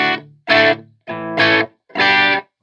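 Distorted electric guitar chords through a mini amp head with reverb strike in short bursts, three sustained stabs with brief gaps, loud and close with a washy effect.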